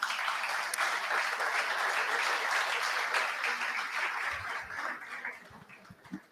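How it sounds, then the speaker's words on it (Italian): Audience applause at a twinning anniversary ceremony, a sustained crowd of clapping hands heard from a short distance, steady and full before thinning out toward the end. "Un applauso anche per loro."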